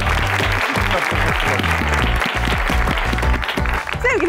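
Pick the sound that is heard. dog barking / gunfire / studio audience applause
studio audience applause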